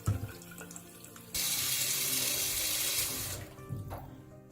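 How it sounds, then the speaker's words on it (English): A tap opens and hot water gushes steadily into a basin for about two seconds, then shuts off, leaving a faint clunk and low room hum. "I'm going to first fill up the inside with hot water, just like that."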